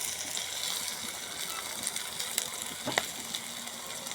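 Garlic, onion and dried chili frying in a pan give a steady, close sizzle with soft crackles and a few sharper pops, with no talking.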